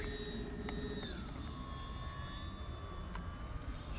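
An Avios Twin Otter twin-engine RC model airplane's engines whine at a high, steady pitch, dropping slightly in tone as it passes, heard from a distance over faint wind.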